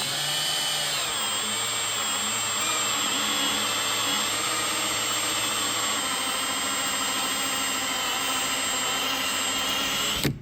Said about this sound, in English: Okay, so now we're going to use a step drill. We're going to go to 5/8 of an inch